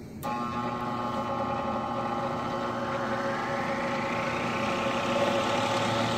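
Motor-driven metal disk spinning up in an eddy current brake demonstration, a steady loud whirring hum with tones that rise gradually as it gains speed, continuous and close.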